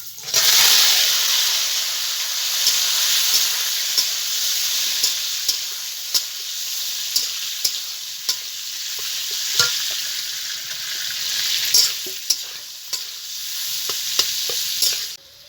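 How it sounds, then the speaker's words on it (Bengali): Cracked olives hit hot oil and spice tempering in a pan with a loud burst of sizzling, then settle into a steady hiss broken by repeated clinks and scrapes of stirring. "এখন এই ফাটিয়ে রাখা জলপাইটা দিয়ে দেবো।"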